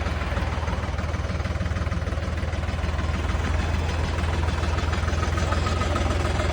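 A 2024 Solis RX 50 tractor engine idles steadily and continuously, a deep low rumble with constant vibration and no breaks, close by.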